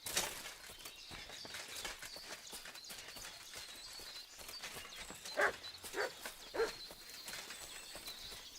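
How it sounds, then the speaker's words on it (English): Dog in Kingdom Come Deliverance 2 giving a few short barks at around five and a half and six and a half seconds, moderately close, set against a busy outdoor bed of hoof clip-clop and ambient game noise. "Shut up, mutt."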